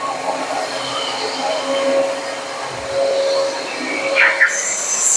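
Mid-priced household vacuum cleaner running steadily, a constant whooshing airflow and suction roar with a faint whine, close and loud with slight shifts in pitch near the end, no talking.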